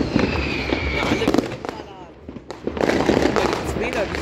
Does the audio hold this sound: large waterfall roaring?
no